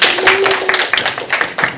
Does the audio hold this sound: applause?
yes